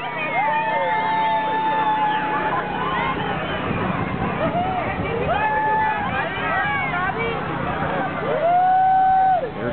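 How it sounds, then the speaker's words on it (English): A large, dense outdoor crowd murmurs along Congress Avenue in Austin, Texas during a Christmas parade, with steady babble and overlapping voices, loud and close, and occasional whistles or shouts. "Gigantic crowd."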